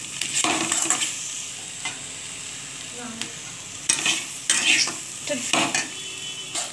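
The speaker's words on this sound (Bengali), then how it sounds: "ভালো করে নেড়ে চেড়ে নেব।" Dalia khichdi stirred with cumin powder and pepper in a frying pan, a spatula scraping over a steady sizzle, with a few louder clinks of metal on the pan close up.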